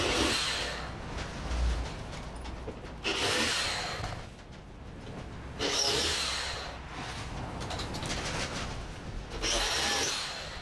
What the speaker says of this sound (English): So what I'm going to do is drill out these 4 pot rivets.